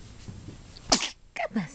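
A single sharp, loud sneeze bursts out close by indoors, followed a moment later by a couple of softer breathy sounds against quiet background chatter.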